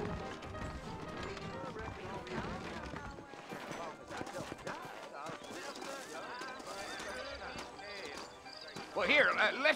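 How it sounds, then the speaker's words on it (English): Horses with saddles move in the Western video game Red Dead Redemption, their hooves clip-clopping in a quick uneven rhythm beneath a man's speech, with occasional snorting and jingling tack. "I got the horses saddled up and ready out front."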